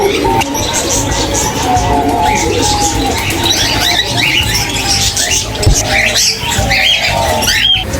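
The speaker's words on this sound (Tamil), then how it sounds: "நிறைய பறவைகள் இருக்கு ஃபுல்லாக பறவைகள் தான் சின்ன சின்ன பறவைகள்" Many small birds at Dehiwala Zoo in Colombo, Sri Lanka, chirp and squawk together in a loud, dense chorus with some cooing, continuous over the whole stretch.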